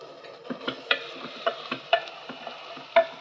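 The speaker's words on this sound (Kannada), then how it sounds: "ಚೆನ್ನಾಗಿ ಎಣ್ಣೆಯಲ್ಲೇ ಫ್ರೈ ಮಾಡೋಣ ತರಕಾರಿ ಎಲ್ಲ" Carrots and other vegetables fry in oil in a pan, with soft sizzling under irregular scraping and stirring knocks from a utensil, close and moderately quiet.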